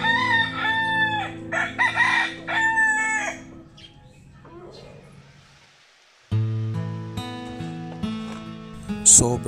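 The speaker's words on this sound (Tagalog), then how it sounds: "Ang tilaok ng manok na siyang musika sa aking tenga" Two long rooster crows ring out close by in a rural province morning, one after another, followed by a lull and then another burst of crowing with clucking fowl around.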